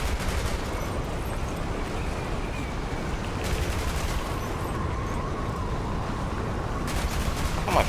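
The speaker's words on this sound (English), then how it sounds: "Missed every shot." Continuous heavy gunfire in Borderlands 3, dense rapid shots blending into a loud, unbroken roar of automatic fire with no pauses, up close.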